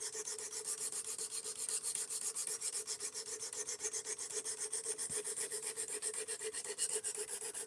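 A S35VN steel knife bevel is ground back in a continuous, even rasping scrape, close and steady with regular strokes and no talk.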